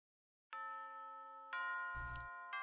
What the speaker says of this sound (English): With the ring of the bell signaling the end of the homeroom